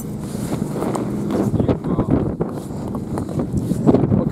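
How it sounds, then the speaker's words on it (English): Strong wind gusting across a frozen Lake of the Woods during ice fishing for northern pike, a steady broadband rush buffeting the microphone at close range with a few faint thumps, no clear talk. "Windy day though, windy day."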